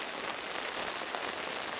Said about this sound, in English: All that I know for certain is that I'm glad it's raining.